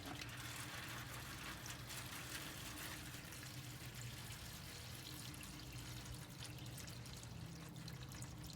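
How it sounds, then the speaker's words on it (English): Water poured into a foil-covered drip pan inside a Char-Broil Kamander grill, a steady faint splashing stream running for several seconds with no talk. "I'm gonna put some water in it."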